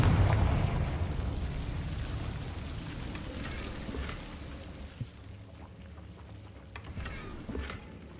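A Confringo fire spell explodes in Hogwarts Legacy with a loud, rumbling burst at the start. It fades into a long crackling, whooshing tail, with a few sharp pops and snaps scattered through the decay.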